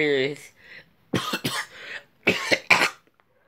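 After a brief spoken sound, a person coughs close to the mic in two short clusters of sharp, hacking bursts, at home in Calama.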